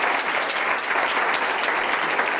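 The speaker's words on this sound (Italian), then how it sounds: "Un applauso." An audience applauds a choir director at a televised choir event, steady dense clapping close and loud throughout, with no talk over it.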